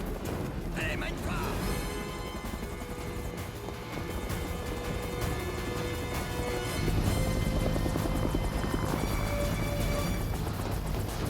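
A helicopter's rotor and engine hum steadily, growing somewhat louder toward the end, heard in a French action film scene amid background music and effects.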